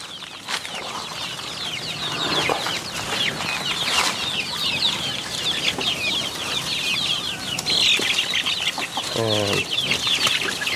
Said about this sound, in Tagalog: Kaya pakain na siya sa mga manok.